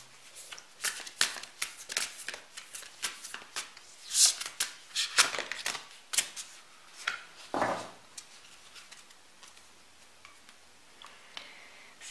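Tarot cards are shuffled by hand in a quiet room: a steady run of crisp riffling flutters and soft slaps, with brisker bursts near the middle, and no talking.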